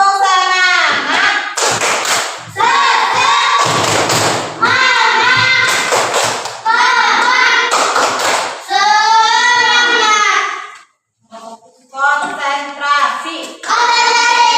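A school class does a rhythmic spirit clap: sharp, loud group claps land in a steady pattern between bursts of children's chanted voices, with a short pause near the end.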